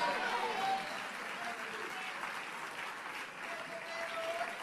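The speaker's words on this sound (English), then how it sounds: "Come on, somebody, and clap your hands" A church congregation claps their hands, a dense continuous applause from a crowd, steady and even throughout with a slight dip midway.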